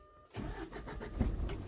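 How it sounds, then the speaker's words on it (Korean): Aerial work platform truck engine starting up: after a quiet moment, a brief cranking burst catches into a steady, close mechanical idle that continues to the end. "탑승을 해서 시동을 켜고"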